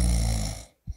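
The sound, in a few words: loud snoring of a sleeping duke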